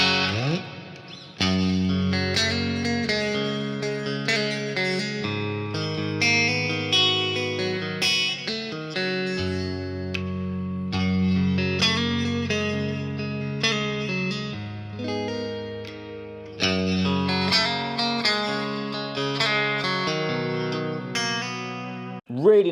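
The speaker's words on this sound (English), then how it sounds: "Really nice clean tones there," Clean electric guitar chords and picked notes from a vintage guitar ring out loudly, with sustained harmonics and short gaps between phrases.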